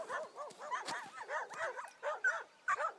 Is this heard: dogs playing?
yes